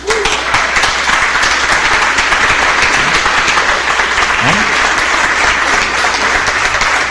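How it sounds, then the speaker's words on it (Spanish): Sustained applause from an audience during a Spanish-language sermon on the Eucharist, dense steady clapping holding at full strength throughout with a few faint voices mixed in. "Eso se merece un aplauso."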